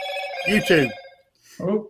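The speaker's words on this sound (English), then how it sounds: "Now, that's my phone." A mobile phone ringtone plays nearby during a live Bigfoot 911 broadcast, chiming in two bursts with a short gap between them, and people talk over it.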